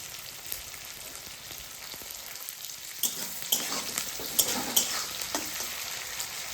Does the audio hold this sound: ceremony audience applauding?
no